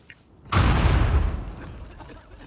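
Sudden loud explosion in the Uncharted 4 video game, a sharp booming onset that rumbles and fades over a couple of seconds, with no talk over it.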